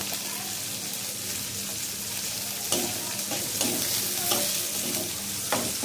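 Onion and green chillies fry in mustard oil in a pan, making a loud, continuous, close sizzle with repeated scraping stir strokes and a few sharper clatters.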